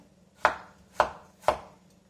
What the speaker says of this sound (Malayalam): ഇഞ്ചി കട്ട് ചെയ്യാം